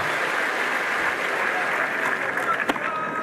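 Tennis crowd at the 2018 French Open applauding and cheering during Del Potro versus Mahut, a dense continuous wash of clapping with a few sharper claps near the end.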